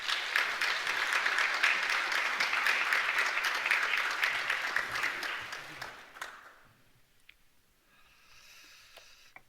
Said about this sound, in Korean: 환영의 박수 드리겠습니다.